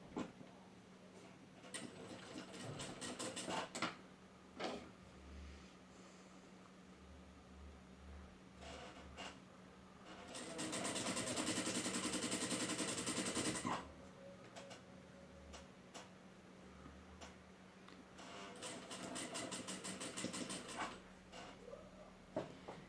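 A sewing machine stitches fabric for a doll's coat in quiet bursts, rapid clattering runs of stitches separated by pauses, with one longer steady run in the middle, close and faint with no talk.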